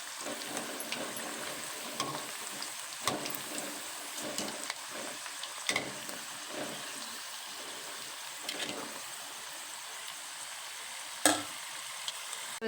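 Potato pakoda frying in hot oil: a steady, close crackling sizzle broken by scattered sharp pops and a few louder bursts, with no talking.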